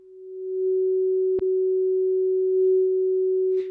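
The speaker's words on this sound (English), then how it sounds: "watch the length of the tail when I switch from CW to CW reverse by selecting the CW mode again." An Icom IC-7300 transceiver puts out a steady pure CW tone that fades in and then holds at one pitch. Brief clicks break in as the operator switches between CW and CW reverse modes.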